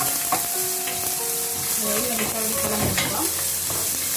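Chopped onion drops into hot oil for a tempering and sizzles loudly and steadily, with stirring clinks and scrapes close by.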